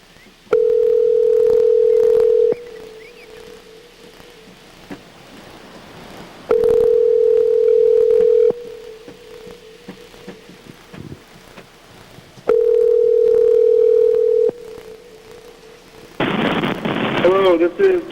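A telephone call rings out with three steady ringback tones, each about two seconds long and spaced roughly four seconds apart, loud over a faint hiss. A noisy burst follows as the line connects at the end.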